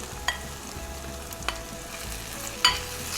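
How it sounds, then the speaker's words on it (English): Spices and garlic sautéing in a pan for a shrimp masala curry give a soft, steady sizzle with a few brief clicks of stirring, quiet and close, with no talk. "Saute it for a minute or 2"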